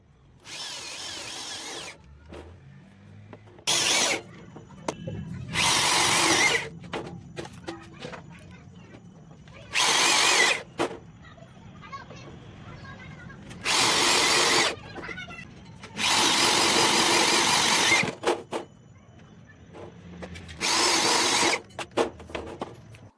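A power drill drives self-drilling washer-head screws into metal sheet while an iron rack is assembled, giving about seven loud whirring bursts of varying length separated by quiet pauses.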